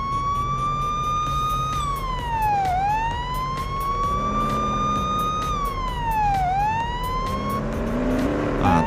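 A police car siren wails in a police simulator video game, a loud, close electronic siren rising and falling in two long sweeps over a steady engine drone.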